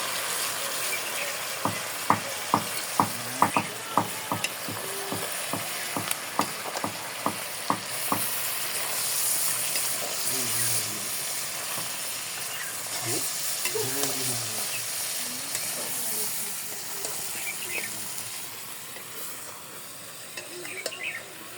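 Duck meat frying with spices in a pan in a Nepali village kitchen, loud steady sizzling with a run of sharp rhythmic scraping stirs early on, close up, faint voices in the background.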